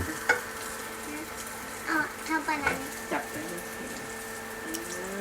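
An omelette cooks in a pan with a faint, steady sizzle, broken by a few soft scrapes and taps as it is stirred and turned, heard close with a quiet background hum.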